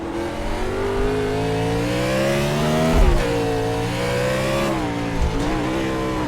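An iRacing stock car on the NASCAR Chicago street circuit drones with a steady engine note, its pitch falling under hard braking and then climbing again, with brief thumps and downshift blips up close.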